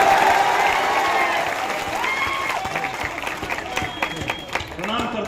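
Clapping from the crowd at an all-India poets' gathering in Biaora's municipal complex, a loud burst of applause that thins out into scattered claps while a voice talks over it.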